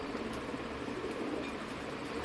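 Teddy pigeons, including black-faced Dubai and royal teddy birds with young, cooing softly in a loft amid a steady background hiss and hum, with a few faint scattered coos.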